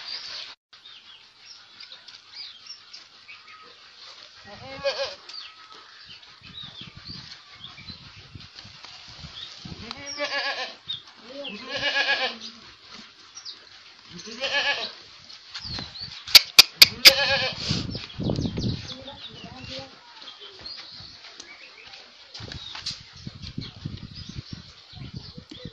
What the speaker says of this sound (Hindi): लोग जो है आज अपनी बकरियों को लेकर चलेंगे किसी हरियाली जगह में, हरी जगह में